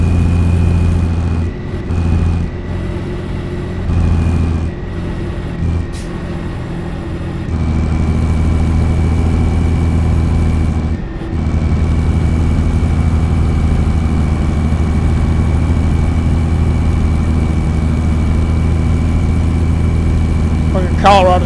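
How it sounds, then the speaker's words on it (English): A deep truck engine idles in American Truck Simulator with a steady low rumble and hum, constant throughout, with a few brief dips early on. "Quiet guys, and listen to this engine."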